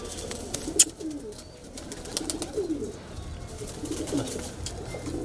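A large high flyer kalpare pigeon held in the hand at a loft gives low, soft coos in a few short bursts, close by, over faint background noise and a sharp tap.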